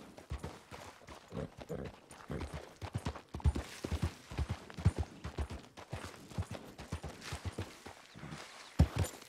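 Rapid clip-clop of horse hooves in Red Dead Redemption 2 at a steady gallop rhythm, fairly close and loud, with a few heavier thuds along the way.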